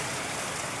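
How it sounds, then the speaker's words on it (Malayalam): Heavy monsoon rain pours steadily onto a road during an unusually wet season, a dense, even hiss of drops with no pauses or voices. "മെയിൻ റോഡിലേക്ക് മഴ മഴ മഴ"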